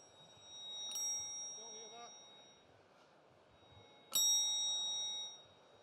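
A hand bell is struck twice, several seconds apart, during a demonstration of resonance. Each bright strike leaves a clear ringing tone that lingers and slowly fades, with a faint voice in the background.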